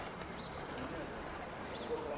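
Soft cooing from young pigeons in a loft, faint and continuous, with a couple of thin high chirps and a quiet voice underneath.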